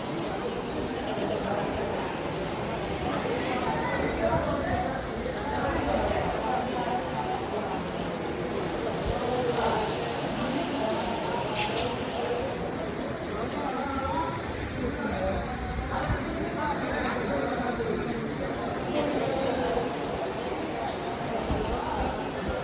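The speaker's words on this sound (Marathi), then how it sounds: "इकडे पाऊस चालू झाला आहे मित्रांनो" Rain falls steadily as a constant wash of noise outdoors in Varanasi near Kashi Vishwanath temple, with people talking and moving around throughout.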